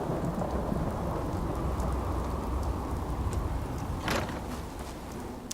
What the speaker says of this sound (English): And it is still raining.